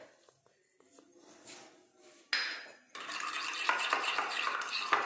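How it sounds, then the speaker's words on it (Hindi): A spoon stirs pizza sauce ingredients, including oregano and salt, in a bowl. Quiet clinks at first, then a busy, continuous scraping and swishing that grows louder and close up, with no talking. "और हम इसे मिक्स कर लेंगे।"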